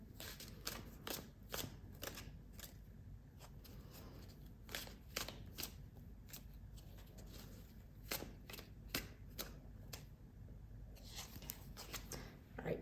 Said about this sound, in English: They want me to shuffle a little bit more here.